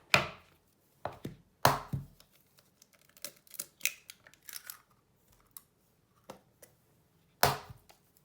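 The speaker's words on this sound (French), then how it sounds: "on va casser les œufs dans le saladier" Eggs cracked into a salad bowl for cake batter, a series of sharp, close knocks and cracks, some in quick pairs, separated by quiet gaps.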